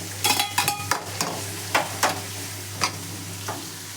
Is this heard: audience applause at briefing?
no